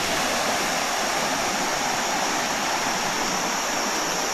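The clear Sibau River flows past a forest campsite in the morning, a steady broadband rush of water that fills the whole stretch without breaks, close and continuous, with no voices.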